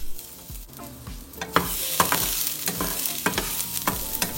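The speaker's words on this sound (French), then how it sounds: "on va faire revenir l'ail dans l'huile pour en dégager les arômes" Garlic sizzles in hot oil in a frying pan, a steady bright crackle broken by repeated clacks of a utensil stirring and scraping against the pan, close and fairly loud with no talking.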